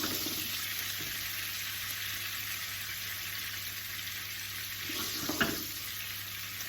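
Caper berries frying in a pan for Sicilian pesto, a steady broad hiss of hot oil that holds evenly throughout, with a brief stir or shift near the end and no talk.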